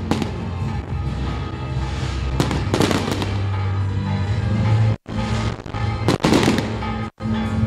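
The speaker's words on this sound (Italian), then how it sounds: "Fuochi d'artificio stupendi." Festival fireworks for Santa Lucia in Belpasso's Purgatorio quarter: a loud, continuous crackle and popping with heavier booms around the middle, broken by two brief silent gaps.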